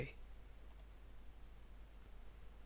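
A computer mouse clicks twice in quick succession while working in AutoCAD. The clicks are faint and brief, set against a quiet, steady background hiss.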